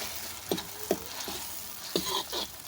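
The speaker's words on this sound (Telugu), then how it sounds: "అల్లం పేస్ట్ అంతా బాగా కలిసేలా ఈ విధంగా కలుపుకోవాలి" Ginger paste stirred in a pan over a wood-fired stove, a steady close sizzle of frying with several distinct scraping strokes of a spoon against the pan at irregular intervals.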